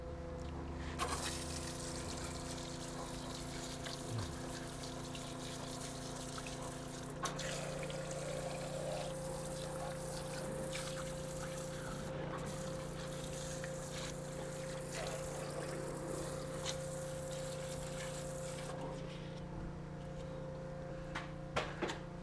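Water running steadily over a brake part being rinsed clean of sand, a continuous trickling, pumping wash with a low mechanical hum underneath, no talking.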